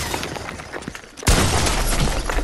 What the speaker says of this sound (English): I shot you with my shotgun, that doesn't count!